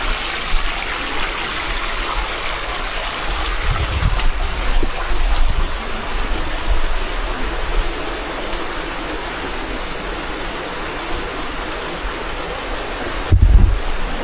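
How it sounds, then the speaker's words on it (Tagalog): A strong river current rushes in a steady, loud broadband roar that holds from start to finish, with a few low thumps and a brief louder burst near the end. "Napakalakas ng agos."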